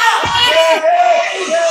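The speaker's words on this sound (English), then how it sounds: "Come on now, cheer MIT, you guys." A crowd cheers for MIT with a dense, bright wash of shouting and whooping voices, some sounding like children, steady and loud throughout.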